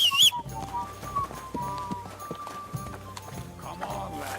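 Horse hooves clip-clopping at a walking pace in the medieval role-playing game Kingdom Come: Deliverance II, steady rhythmic thuds under soft background music, with a brief whistle near the start.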